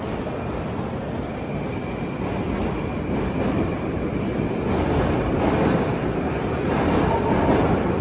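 A metro train carriage rumbles steadily in a dense, continuous roar with faint wheel squeal and clatter, loud and close throughout, with no talk over it.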